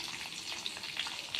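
Panch phoron spices go into hot oil in a kadai with cumin and green chilli, giving a brief, steady, fairly quiet crackling sizzle with no voices.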